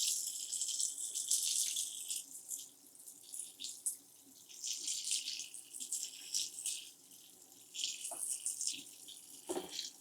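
Water poured from a pitcher into seed starting mix with perlite, a steady bright splashing trickle that runs continuously with slight surges, close by and with no talking.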